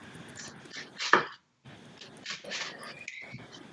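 A knife slices through an onion on a cutting board, giving a few soft, close chopping taps and scrapes with quiet gaps between them and no speech.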